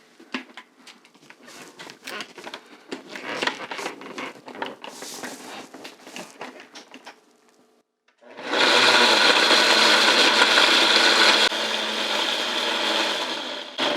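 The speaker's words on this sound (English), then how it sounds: "So now we're gonna blend it" Rice blended for horchata: irregular clattering and rattling at first, then a loud steady high-pitched whir of the blender running continuously.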